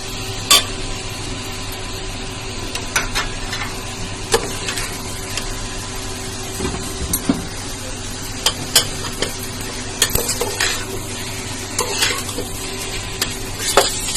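Spicy black chickpeas with green chillies and tamarind chutney sautéed in a pan, a steady close sizzle with frequent scraping stir strokes and occasional sharp clinks of a spoon against the pan.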